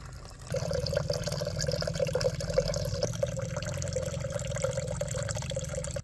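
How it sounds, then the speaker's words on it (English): Concentrated liquid fertilizer runs steadily from the tap of a 5-gallon bucket into a container, a continuous close trickling and splashing stream that starts abruptly and keeps flowing without a break. "Just turn the tap and fill up a container."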